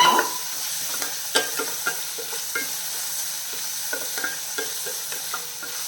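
Crushed small onions and okra sautéing in a pan, with a steady soft sizzle and repeated light scrapes and clinks of a spoon stirring, close and alone.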